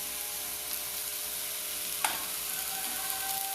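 Turmeric powder being stirred into vegetables for ulli thandu thoran frying in a pan, a steady sizzle with one sharp scrape of a utensil midway.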